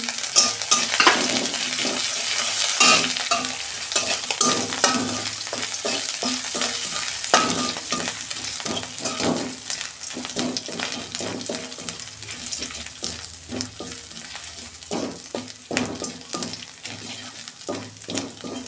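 Spices and ginger sizzle in hot oil for a tempering, a steady frying hiss broken by repeated stirring scrapes and clicks of a utensil against the pan.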